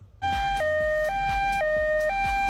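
A two-tone ambulance siren alternating high and low in a steady rhythm, loud and close, with no talking.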